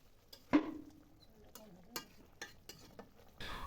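Pangas fish curry with fried onion and sliced green chilies is stirred in a pan. A few sharp, faint scrapes and clinks from the spoon sound over a soft background sizzle.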